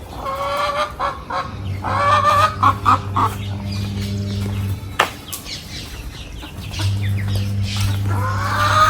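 Hens cluck and squawk repeatedly in a noisy farmyard, with a low steady hum running underneath for much of the time.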